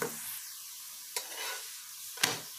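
Fenugreek paratha frying in a pan over medium heat gives a soft, steady sizzle, broken by three sharp scraping or flipping sounds at regular intervals, close and quiet with no talk.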